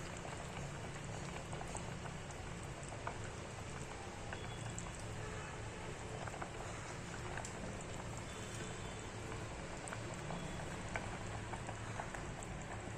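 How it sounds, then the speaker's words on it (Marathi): A pot of pea and potato curry bubbling at a steady boil, a dense continuous gurgling and popping like soft rain, close and fairly quiet with no talk. "हे आता भाजीला कशी उकळी आली"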